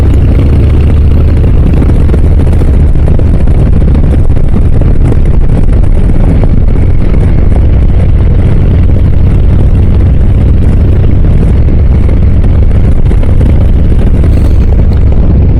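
Loud, constant engine drone and rushing wind roar from a motorcycle riding a country road in Western Washington on a windy day, heavy low rumble throughout with no pauses.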